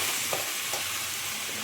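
Purple cabbage being stirred with soaked chana dal in a pan, a steady soft sizzle with a couple of brief scraping strokes, close and continuous with no voices.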